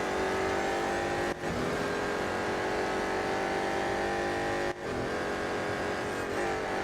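Engine of the BMW M Hybrid V8 race car in the mobile racing game Real Racing 3, a loud sustained high-revving drone with two brief dips where the car shifts gears, heard steadily throughout.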